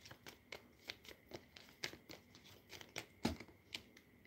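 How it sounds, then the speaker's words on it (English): Tarot cards shuffled in the hands during a love reading, giving a close, quiet run of papery flicks and soft riffles with a few sharper snaps, heard alone. "I will shuffle fortune teller cards for you."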